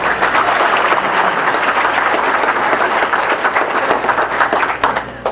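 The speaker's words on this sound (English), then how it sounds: "Joe, give him a round of applause" Audience applause at a high school senior awards evening, steady dense clapping from a room of people, close and even, tapering off at the end.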